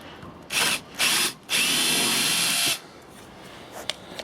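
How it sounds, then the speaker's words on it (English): Electric drill whirs in two quick bursts, then bores steadily through a metal shovel scoop for over a second before cutting off, close and loud with no voices. "We're going to drill ourselves a hole in this here scoop."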